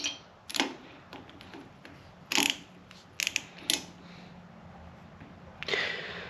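A ratchet wrench clicks in short bursts while breaking a bolt loose on a Kawasaki KZ900 motorcycle, several sharp ratcheting clusters separated by pauses, close and fairly quiet in a garage setting.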